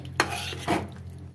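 Chicken chilli being stirred in a pan, two distinct scraping strokes of a utensil against the metal, close and fairly quiet, with a faint low hum beneath and no talk.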